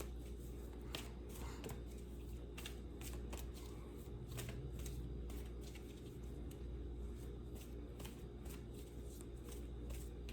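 Tarot cards being shuffled by hand at close range, a soft continuous riffling with repeated crisp flicks and snaps over a quiet low hum.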